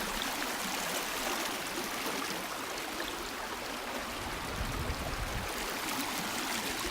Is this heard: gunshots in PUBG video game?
no